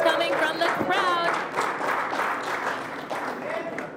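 Before a women's world championship final match, a crowd claps and cheers in a lively burst while a voice talks over the noise, the applause gradually easing.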